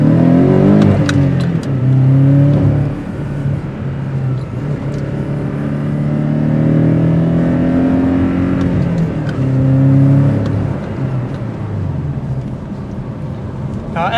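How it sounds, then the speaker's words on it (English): A 2022 Porsche 718 Cayman accelerates with a deep, throaty exhaust note, climbing through rising engine tones with brief dips between gears, heard from close by. "You get a good throaty exhaust note."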